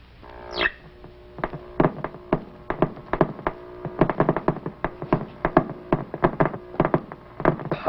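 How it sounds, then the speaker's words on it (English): A cosmic ray detector clicking steadily, with sharp irregular ticks coming in quick succession over a faint hum, close and fairly loud, with no voices. "What you are hearing are actual cosmic ray bullets."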